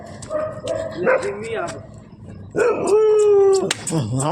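A dog barks and howls in drawn-out, wailing yelps, loud and close, with people talking around it.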